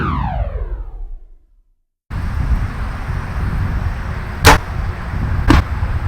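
Broadhead test with a Bishop FOC King arrow fitted with a Crafted Archery AERO 1 broadhead, shot from a Bowtech SR6 compound bow set at 72 pounds. A falling whoosh fades to silence, then two sharp, loud impacts stand out over a steady background hum.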